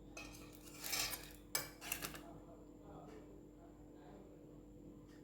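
Metal utensil clinks and scrapes against a plate while rasavala poha gravy is served, a burst of clatter early, then a sharp knock and a few lighter scrapes fading into quiet room tone.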